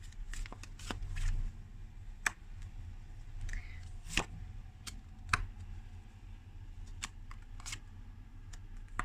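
Tarot cards are shuffled and drawn during a quiet reading, giving soft, scattered flicks and snaps with a few sharper card slaps, close and gentle, with no talking.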